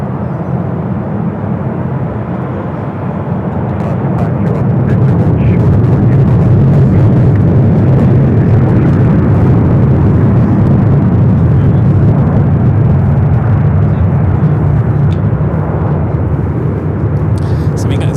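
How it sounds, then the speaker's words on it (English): British Airways Airbus A380 from London Heathrow arriving at Los Angeles airport, a loud, broad jet roar that swells over several seconds and holds steady, with faint talk beneath. "This will be our first A380 Super arrival of the stream."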